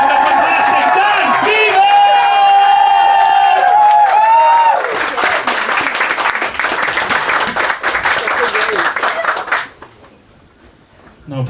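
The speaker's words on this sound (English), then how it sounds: "Let's start that round of applause down the back of the room." Audience at a comedy club in Dublin claps and cheers, loud and sustained with whoops, while a voice speaks over the start, before the applause drops away near the end.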